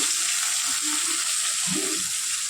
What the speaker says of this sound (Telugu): గ్రైండ్ చేసుకున్న ఆ మిశ్రమాన్ని ఇప్పుడు మనం పోపు పెట్టుకున్నటువంటి వాటిలో వేయాలి